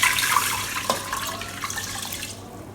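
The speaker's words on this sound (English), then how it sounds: "So I'm adding in 5 cups of water." Water pours from a container into a starch-removing rice cooker pot, a steady close splashing trickle that tapers off near the end.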